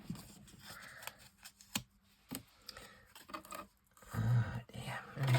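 Scissors cutting a piece of white card: a few sharp, close snips with quiet gaps between them, faint overall and ending in some soft rustling handling.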